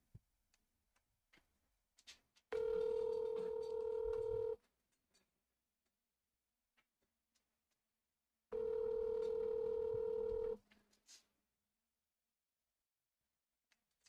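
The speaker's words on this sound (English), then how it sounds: "I want to call somebody." Telephone tones, two identical steady electronic beeps each lasting about two seconds, separated by near silence with faint ticks and clicks.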